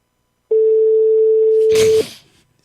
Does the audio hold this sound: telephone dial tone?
yes